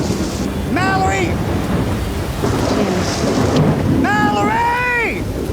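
Heavy rain pours steadily in the Colombian Badlands with rumbling thunder, loud and close, while a voice shouts twice over the storm.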